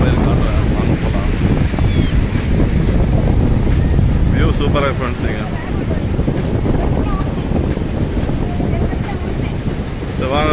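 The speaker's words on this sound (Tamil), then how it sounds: "காற்று பயங்கரமாக அடிக்குது. கேட்குறீங்களா சவுண்டு? காற்று சவுண்டு பயங்கர காற்று." Strong wind buffets the microphone on Velankanni Beach, a constant loud rumbling roar with the sea faintly underneath, while someone talks over it throughout.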